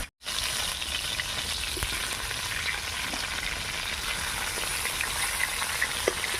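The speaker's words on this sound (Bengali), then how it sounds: "মাছটা ভালো করেই একদিকটা ভাজা হয়ে গেছে," Fish frying in a pan over a wood-fired stove, a steady, dense sizzle and crackle that continues unbroken throughout after a brief gap at the start, with no talking.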